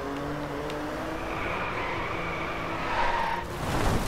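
In the racing game Driveclub, a car drifts with a continuous tyre skid and squeal over steady engine drone, the sound swelling louder toward the end.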